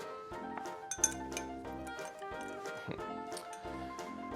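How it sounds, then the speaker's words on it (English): A spoon stirs sugar in a glass while a Pusser's Grog rum cocktail is made, giving a close, quiet run of regular light clinks against the glass, with no voices. "Now I'm going to stir this until the sugar dissolves."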